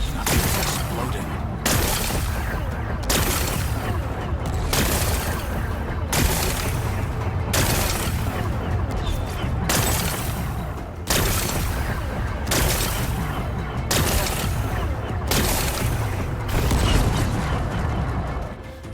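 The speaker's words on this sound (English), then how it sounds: "Gotta blast away some rocks, so I can expose the power cell." Rocks being blasted apart in Horizon Forbidden West, a loud series of booming blasts and crumbling debris repeating roughly every one and a half seconds, dense and continuous throughout.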